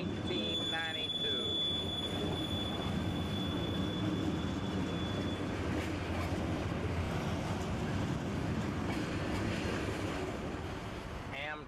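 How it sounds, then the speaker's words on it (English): A long Union Pacific mixed manifest freight train, Kansas City to Fort Worth, rumbles by in 1992 with continuous wheel noise and rattling cars, a brief horn-like tone early on. "Inbound UP train is the KCFW, Kansas City to Fort Worth Mixed Manifest"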